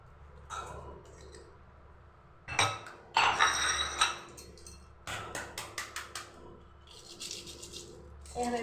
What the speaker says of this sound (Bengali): আলু আর ডিমগুলোকে প্রথমে আমি ছিলে নেব